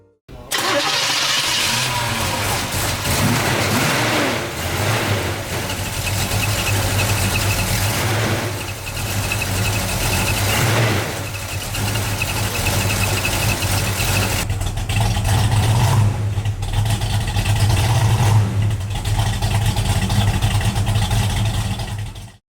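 A 1967 Chevrolet Chevelle SS engine cranks and fires up, then settles into a steady, rumbling idle that continues loudly for a long stretch with slight revving.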